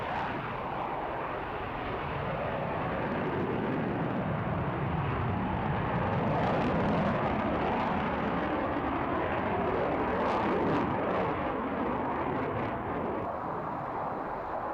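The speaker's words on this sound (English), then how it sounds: "the West was introducing this absolutely splendid aeroplane, the Lockheed F-16" A Royal Netherlands Air Force Lockheed F-16 fighter jet makes a slow, high angle-of-attack pass at the RIAT air show, its engine producing a loud, sustained roar that swells and holds steady with no talking.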